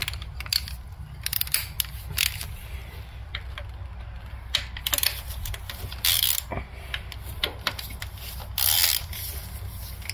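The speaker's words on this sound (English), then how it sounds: "So I have to off all the 10mm bolts here." Ratchet removing 10mm bolts from a Lexus IS250 engine's valve cover area, irregular clicking and metallic ticks close up, with occasional louder clanks over low background hum.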